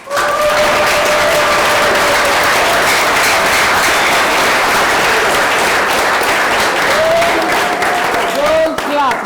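Sustained applause from a large crowd, steady and loud throughout, with cheering mixed in and a few whistles near the end.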